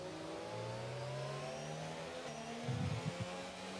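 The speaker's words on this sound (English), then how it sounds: "safety car once again coming through the final few corners" A safety car engine coming through the final corners in a racing video game, heard as a quiet, steady mid-pitched drone with rising revs and a brief rougher burst near the end.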